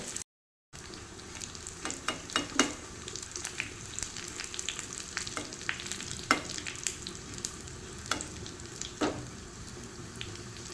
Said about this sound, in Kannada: ಇವಾಗ ಬೆಳ್ಳುಳ್ಳಿ ಫ್ರೈ ಆಗ್ತಾ ಬಂತು